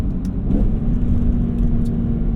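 A high-mileage BMW E46 M3 engine with SMG gearbox pulls hard under acceleration, a steady loud drone with a strong low hum throughout, heard from close by inside the car.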